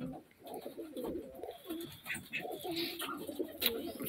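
Pigeons coo steadily in soft, throaty repeated calls, several birds layered over each other at moderate distance in a quiet coop.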